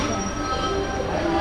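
Train at a railway junction station, a steady rolling rumble with faint wheel squeal, continuous and fairly close, heard alone without talk.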